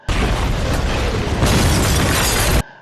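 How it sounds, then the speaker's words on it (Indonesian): A house blowing up in an action film: a loud, sustained explosive roar and crackling debris burst that fills the moment, swelling again midway before cutting off abruptly. "Setelah itu dia menembaki ke dalam hingga rumah tersebut meledak."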